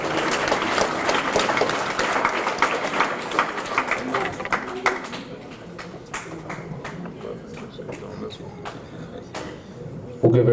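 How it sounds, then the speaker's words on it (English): Applause from a banquet crowd for a scholarship winner at an annual memorial dinner, full and steady clapping for about five seconds, then thinning to scattered claps under voices. "Let's give Eric a round of applause, please."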